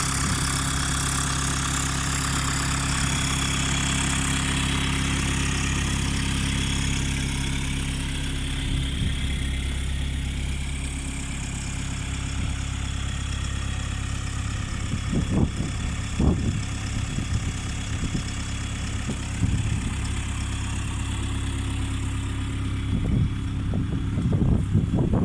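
A Volkswagen T25 van sits idling with no exhaust silencer, a loud, steady, deep engine drone with a rumbling exhaust, and some irregular knocks and clunks appearing in the second half.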